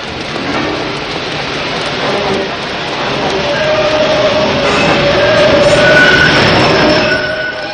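A subway train rumbles steadily through a metro tunnel in 1989 film audio, with a dense, roaring wash of wheel and track noise that swells slightly as it goes on, then a faint high squeal.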